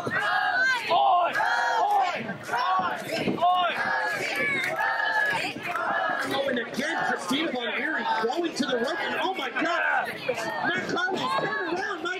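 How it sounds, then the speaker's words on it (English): A live crowd at a women's wrestling match yells and cheers continuously, a dense chorus of shouting voices that stays loud and close throughout with bursts of louder chanting. "This crowd getting behind Rosie Fingers here."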